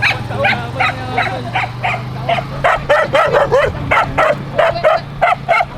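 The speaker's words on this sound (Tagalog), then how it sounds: "Yung aso na yan" A dog barks in a steady, repeated run of sharp yips and barks, fairly close and loud, over a low background hum, with no talk over it.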